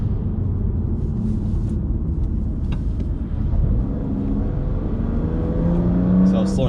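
A car's engine rumbles steadily while driving, its pitch climbing and easing as it moves through the gears, with the changes sounding a little jerky. The engine drone is continuous and close, and no one speaks.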